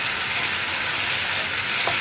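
Egg roast gravy bubbling and simmering on a low flame, a steady soft sizzle with gentle stirring, close and continuous with no talk.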